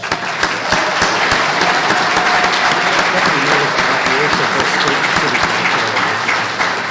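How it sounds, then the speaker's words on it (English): A round of applause for funding partners at a Detroit ribbon-cutting event, loud, dense and continuous clapping from a crowd for the full stretch. "So please give them a round of applause."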